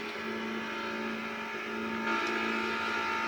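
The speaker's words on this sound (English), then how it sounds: "you now hear that beautiful rotary engine of Kurt Elliott" Mazda RX-7 rotary-engine race car in a racing video game at Daytona, a steady high buzzing engine drone that swells slightly near the end, heard alone with no talking.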